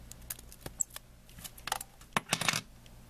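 Mahogany turkey biots snipped with scissors at a fly-tying bench, a few soft close clicks and snips scattered over three seconds, with a small cluster of sharper cuts near the end.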